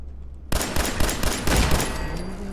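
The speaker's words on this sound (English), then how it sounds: "there's another turret right over here" Automated turret gunfire in Fallout 4, a loud, rapid burst of shots that starts abruptly and rattles on as a continuous fusillade.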